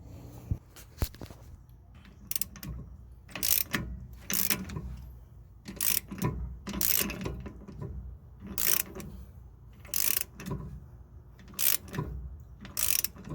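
A long lug nut is slowly tightened on the front hub of a Nissan R50 Pathfinder to draw a new wheel stud in. Repeated ratcheting bursts come in short, evenly spaced pulls, close and moderately loud.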